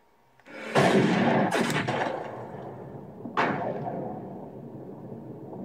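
A rifle fired at a whitetail buck while hunting outdoors: one loud, sharp report with a long rolling echo, a smaller crack soon after, then another distinct report a few seconds later before the sound fades.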